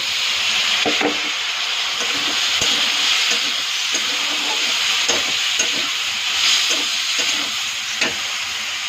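Chopped beans tipped into a hot pan with turmeric, sizzling and hissing steadily close by, with scattered clinks and stirring scrapes over a continuous frying rush.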